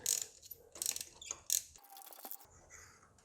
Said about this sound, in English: Just place the socket in there and remove the spark plug.